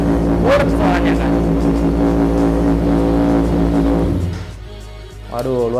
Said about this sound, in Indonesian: Waduh, luar biasa banget suaranya, menggetarkan seisi ruangan ini guys.